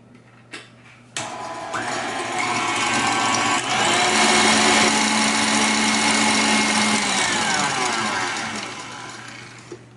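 Macaron batter tinted with a few drops of light blue food coloring is mixed with a motorized tool, which starts abruptly after a second and then runs as a loud, steady whir for about eight seconds before easing off.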